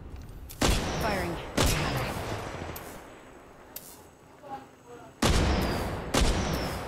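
Gunfire in Apex Legends Mobile: several sharp, loud single shots spaced a second or more apart, each with a ringing tail, and one more pair of shots near the end.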